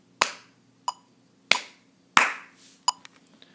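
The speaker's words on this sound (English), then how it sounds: "And then I'm going to clap the bottom rhythm." Six sharp, close hand claps tap out an uneven rhythm with clear gaps between them, performed alone with no other sound, as part of a basic music lesson on quarter, half and whole rests.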